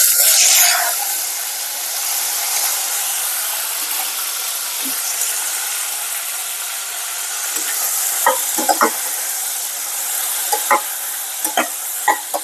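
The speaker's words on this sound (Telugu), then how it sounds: "ఇప్పుడు ఇందులోకి టొమాటోస్ వేసేసుకున్నాం." Tomatoes frying in a pan for toor dal make a steady close sizzle and hiss. A utensil scrapes and taps against the pan in short bursts while they are stirred, mostly toward the end.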